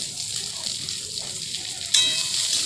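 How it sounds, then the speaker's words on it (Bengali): Dal fries in a hot pan with a steady, close hiss of sizzling that suddenly grows louder and brighter partway through, as if freshly stirred. "ডালটা একটু ভেজে নেব।"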